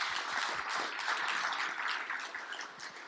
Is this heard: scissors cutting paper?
no